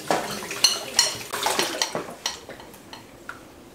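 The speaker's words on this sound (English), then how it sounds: "cleaning up her dishes very nicely" A child clears and washes dishes in a home kitchen: a run of close, bright clinks and clatters of plates and cutlery, loudest early and growing sparser and softer toward the end.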